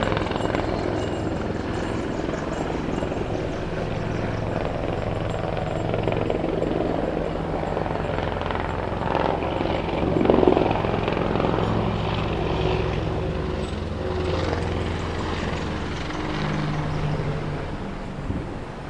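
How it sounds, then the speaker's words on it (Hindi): Military helicopters drone overhead in a continuous, loud, rotor-heavy rumble that swells slightly midway and holds steady throughout. "ये मिलिट्री के हेलीकॉप्टर अभी चल रहे हैं।"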